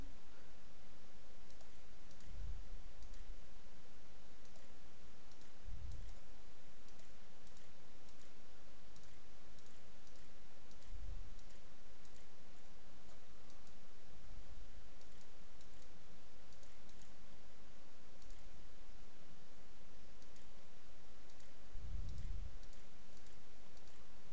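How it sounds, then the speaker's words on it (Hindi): Computer keyboard keys being typed on during Excel spreadsheet work, a steady run of light, close clicks over a constant background hum, with occasional low thumps. "अभी मैं यहाँ पे टाइप करता हूं"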